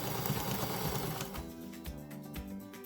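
A sewing machine stitches piping onto upholstery fabric: a dense mechanical whir at first, then a quicker run of regular rhythmic needle strokes, close and moderately loud.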